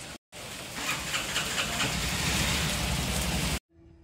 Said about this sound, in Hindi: आज भी बारिश बहुत खतरनाक हो रही है